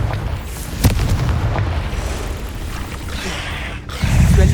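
A Confringo fire spell is cast in a Harry Potter video game, landing as a dull boom with a sharp burst near the start and a heavy low rumble swelling again at the end, with no talk over it.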